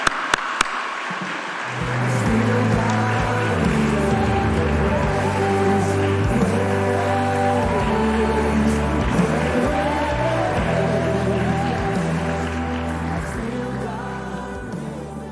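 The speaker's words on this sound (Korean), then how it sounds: "우리 김성건 목사님 나오실 때 우리 할렐루야 박수로 환영하시겠습니다" A church congregation claps to welcome the pastor, with steady, loud applause from a large crowd that follows a few sharp claps at the start and carries on with music playing beneath it.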